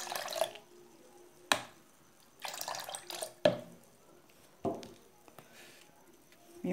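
Cajá and orange juice poured into a cup, heard as several separate short splashing pours and drips separated by quiet pauses, close and fairly soft.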